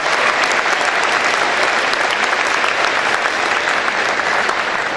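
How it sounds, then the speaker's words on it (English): A hall audience gives steady, dense applause to the Cadillac High School band at the 2014 Cadillac Area Chamber of Commerce Governor's Breakfast. The clapping is close and loud and holds evenly for the whole stretch. "give them a big hand"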